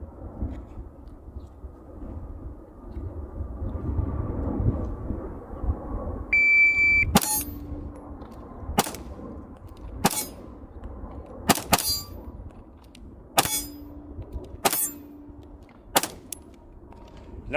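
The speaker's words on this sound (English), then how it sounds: "I just want to get some shots on some steel," Rifle shots from a Bear Creek Arsenal Grizzly strike steel targets about 15 yards away, about eight sharp cracks, each followed by a bright metallic ring, spaced irregularly over outdoor background noise.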